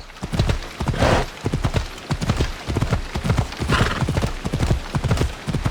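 Horse hooves clip-clop steadily and loudly on a hard surface close by, a brisk continuous rhythm with an occasional whinny and faint voices in the background.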